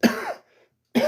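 An allergy-related cough and throat clearing: two short, harsh, throaty bursts, close and fairly loud, separated by a brief silence.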